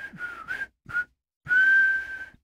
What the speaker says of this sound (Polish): możemy usłyszeć rebelianta, który nuci właśnie tą melodię